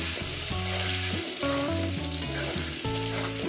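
Vegetables frying with turmeric in a pan for a pointed gourd and potato curry, a steady sizzle with occasional stirring, heard under loud background music.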